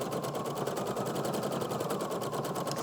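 A domestic sewing machine running a 3-step zigzag stitch along a fabric edge, a steady, fast mechanical whirr with a tight, even rhythmic chatter, close and continuous throughout with no voices.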